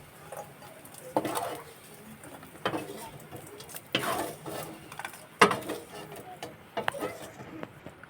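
Fried cashews and raisins scooped out of a pan of ghee with a metal spoon while making pulao: several soft scraping clinks and light taps at irregular intervals, close by and fairly quiet, with no talking.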